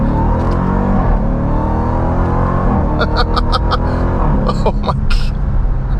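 2023 Dodge Durango Hellcat SUV engine pulling hard under acceleration, a loud steady roar from inside the cabin with a brief exclamation from the driver partway through.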